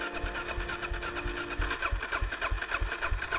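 An engine that has sat unused turns over and catches on a new lithium-ion battery, giving a steady close chugging idle with a rhythmic low pulse and no talk.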